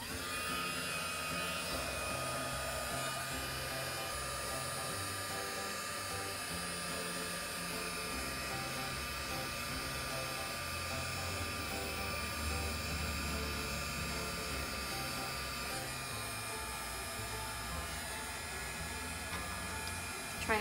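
A heat tool blows steadily while heat-setting craft embellishments, a continuous loud whooshing hiss with a low rumbling fan that runs unbroken for about twenty seconds, close up.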